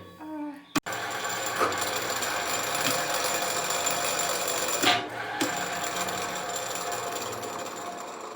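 A pillar drill drilling wood gives a steady mechanical whine with rapid chattering that runs continuously, broken by a few sharp knocks and clunks, close and fairly loud.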